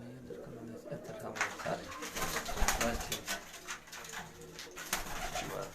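Champion racing pigeons on a Gujranwala rooftop coo softly in low repeated calls, with rustling, scattered chirps and faint voices in the background.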